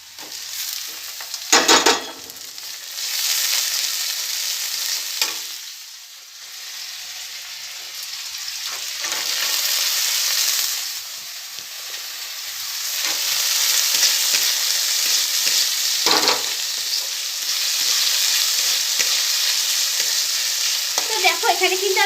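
Potatoes frying in a pan for a home-style fenugreek greens (methi shak) dish: a steady, close oily sizzle persists throughout, broken by a few sharper bursts as the food is stirred and the potatoes are added.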